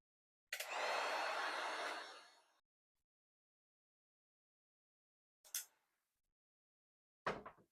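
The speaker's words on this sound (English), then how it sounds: "let's take the heat gun and dry those a little bit" Heat gun blowing on homemade ceramic underglaze: a loud broadband rush of hot air for about two seconds, then two short bursts as the gun is switched on again briefly, with silence between.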